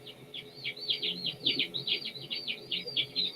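Baby chicks chirping in a rapid series of high, thin peeps, fairly faint and close, with soft low background noise and no talk.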